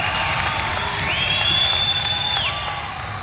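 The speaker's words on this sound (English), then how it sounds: "This crowd's electric at this point." Crowd cheering at a high school volleyball regional championship game: a dense roar of voices with shrill whoops and a rising sustained shout, steady and loud throughout before easing slightly at the end.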